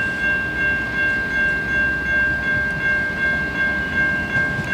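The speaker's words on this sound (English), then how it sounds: "Two carriage train." A two-carriage train passing near a level crossing by a rail junction in Adelaide, a steady rumbling roar with a sustained high tonal whine, heard alone at moderate loudness without a distinct horn.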